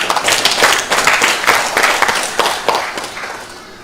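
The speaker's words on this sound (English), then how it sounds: "A round of applause as it is." A crowd claps in a steady burst of applause, loud and dense at first, then thinning and fading toward the end.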